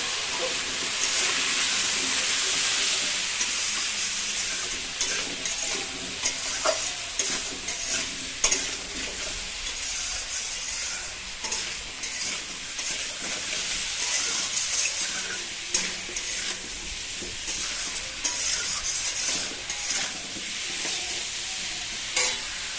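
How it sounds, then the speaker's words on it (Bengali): Chicken seasoned with salt and turmeric fries steadily in a pan, giving a continuous loud sizzle with scraping stir strokes and small clinks throughout, no voices. "আমরা আগে প্রথমে এটাকে খুব সুন্দর করে কষিয়ে নেব মানে ভেজে নেব মাংসর মতো কষিয়ে নেব"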